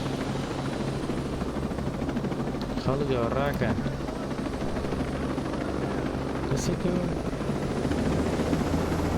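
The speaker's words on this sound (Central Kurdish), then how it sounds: "هەلیکۆپتەر" Helicopter in the video game Ghost Recon, a steady loud rotor drone running throughout, with someone talking over it.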